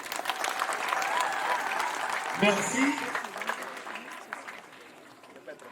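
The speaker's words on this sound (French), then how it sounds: "Applaudissons s'il vous plaît." Crowd applause at an official ceremony where a provincial governor hands over keys to new infrastructure, steady clapping throughout with a voice speaking briefly over it.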